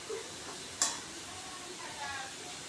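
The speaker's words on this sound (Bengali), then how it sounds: "সেগুলো একইভাবে তেলে ভেজে নিব।" Palm gokul pitha, stuffed sweet dumplings, frying in a pan of hot oil, giving a steady soft sizzle with one sharp utensil click partway through; no talking.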